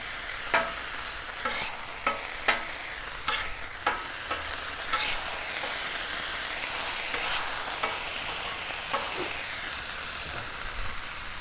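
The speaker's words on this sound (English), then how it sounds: "we're going to go ahead and flip our sausage." Sausage patties frying on a Blackstone flat-top griddle alongside McGriddle buns, a bright continuous sizzle and hiss with sharp spatula scrapes and taps, several in quick succession early on, close and loud.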